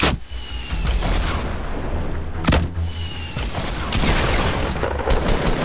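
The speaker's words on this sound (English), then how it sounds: "Rocket launcher, I shot twice, how did none of them hit?" Rocket launcher fire in the Fortnite Battle Royale video game, two heavy booming shots over a dense, continuous wash of loud in-game gunfire and explosions that fills the whole stretch.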